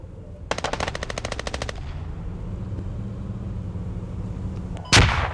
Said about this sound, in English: Nope, just a weird sounding Humvee.